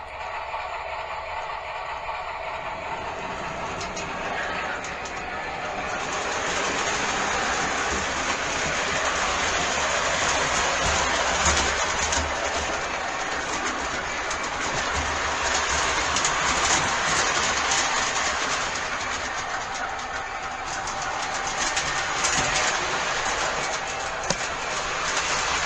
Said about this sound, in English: Of course I'll run a train for you.